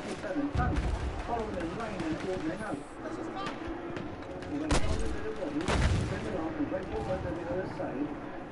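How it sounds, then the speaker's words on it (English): Mortar rounds and battlefield explosions boom repeatedly in Battlefield 1, with heavy low blasts landing over constant gunfire and combat noise, loud and dense throughout the stretch. "Okay, now I'm gonna just blast some mortars down that frickin' pathway up here."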